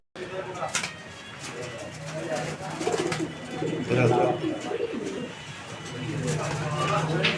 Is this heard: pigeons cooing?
yes